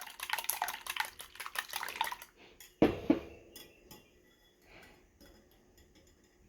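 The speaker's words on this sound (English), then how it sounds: "So we're just going to go ahead and give those a nice little mix." Jumbo eggs whisked in a bowl, a fast rattling clatter of utensil against the bowl that stops abruptly, followed by a couple of clinks and faint handling sounds.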